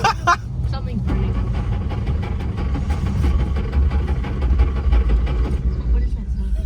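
A long-stored 1961 Mercedes-Benz 190 sputters through a low, uneven running rumble with a brief louder rattle at the start. Voices talk over it at times.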